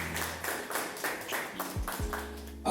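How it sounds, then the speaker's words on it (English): Audience applause during a panel discussion event: brisk, fairly close clapping from a modest crowd, sustained with uneven bursts, with some low tonal hum underneath toward the end. "Round of applause for that."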